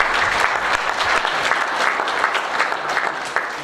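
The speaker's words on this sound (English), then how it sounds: "Let's give them a round of applause." An audience at an academic nutrition evening claps for the speakers, a full sustained round of applause with crisp individual claps standing out, loud and even throughout.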